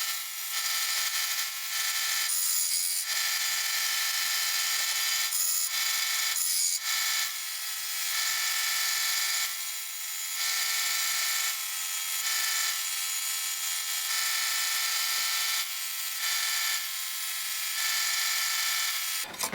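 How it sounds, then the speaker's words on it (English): A power grinder runs continuously against a steel knife blade, a loud, harsh, hissing grind that briefly dips and lifts again as the blade is pressed and eased. No voices. "I got to be really careful not to heat it up too much whenever I'm grinding this"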